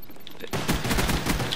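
Rapid M1911 pistol shots in a first-person shooter game, a quick burst of sharp cracks following a quiet start, loud and close.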